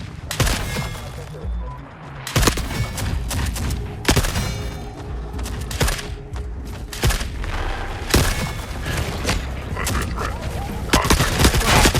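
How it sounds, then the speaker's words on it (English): Shotgun fire in a video game: a series of loud, sharp blasts spaced a second or two apart, each with a short booming tail over constant busy game noise. "That sounds like a shotgun, alright."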